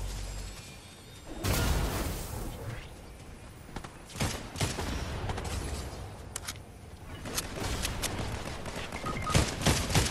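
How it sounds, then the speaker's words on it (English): Rapid bursts of gunfire crackle from several directions during a Fortnite match, dense and loud, with no talking over it. "There's bullets from every direction."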